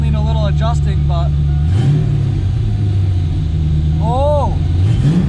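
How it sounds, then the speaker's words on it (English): A cold Ford Mustang, low on coolant and not run in years, settles into a steady, loud rumbling idle with a slight lift in revs, while a voice talks over it. "the idle kind of stays where I expect it to"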